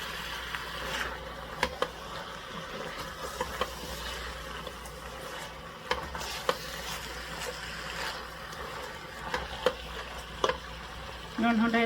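Onions frying in a pan give a steady, continuous sizzle with occasional small pops and clicks throughout.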